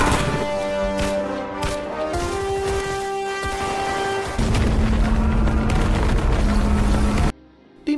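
Loud, sustained battle din from an action film about special forces fighting gangsters: heavy booming blasts and dense gunfire roll continuously for several seconds, then cut off abruptly into near silence before a final burst.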